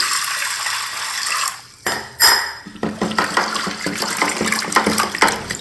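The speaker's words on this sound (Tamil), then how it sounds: "இப்போ முதல்ல 1 கப்பு துவரம்பருப்பு எடுத்துக்கலாம். இதை நல்லா வாஷ் பண்ணி எடுத்துக்கலாம்." A cup of toor dal lentils being washed in a vessel of water for Onam kootukai sambar, with steady splashing and swishing, a brief pause, then repeated rhythmic sloshing and clinking of the grains and pot, close and loud.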